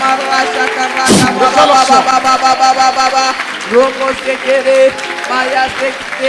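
A worship congregation clapping along during a French praise song, rhythmic hand claps heard under loud singing voices that dominate throughout, with a sharp burst near the start.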